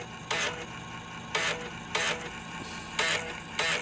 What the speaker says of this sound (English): this is the sound of a knackered disc